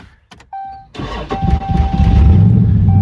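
A swapped Scat Pack V8 engine cranks briefly, then fires up and settles into a loud, deep rumbling idle close by, after a short electronic chime.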